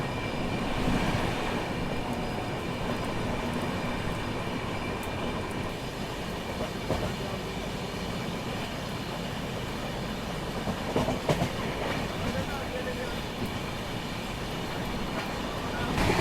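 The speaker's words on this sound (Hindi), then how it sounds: "रफ्तार देखिए अपनी हमसफर एक्सप्रेस की, ऑलमोस्ट 130 पे भाग रही है अब" The Pune–Kolkata Humsafar Express runs at nearly 130 km/h, producing a steady loud roar of wheels and rushing wind with faint rhythmic clatter, heard continuously from inside the moving train.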